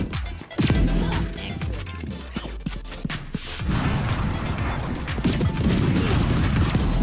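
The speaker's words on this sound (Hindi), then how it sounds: "इसका किल सिंबल और इसका किल करने पे जो साउंड इफेक्ट आता है वो दिखाता हूँ" Kill sound effect of the Spectrum Classic pistol skin in Valorant, a sharp burst of crashing, gunfire-like hits in the first half followed by a sustained, dense electronic rumble that carries loudly to the end.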